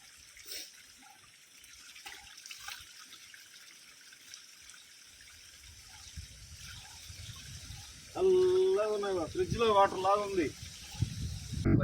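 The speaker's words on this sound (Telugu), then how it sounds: "అలా కిందకు వెళ్తుంది అనమాట ఈ చల్లటి నీళ్ళకి" Cold water runs downhill at Udayagiri fort, a faint trickle under someone talking for most of the time, then a louder gush near the end.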